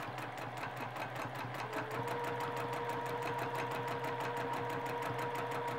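A sewing machine stitching in free motion quilting runs steadily at close range, its rapid needle chatter holding an even rhythm throughout.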